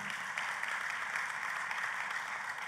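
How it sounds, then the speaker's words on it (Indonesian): A church congregation applauding during a sermon, a steady, even wash of many hands clapping that sounds distant and faint through the room, with no talking on top. "Dan tepuk tangannya yang meriah buat Tuhan."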